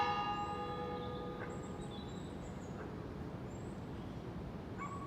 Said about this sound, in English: There go the bells again.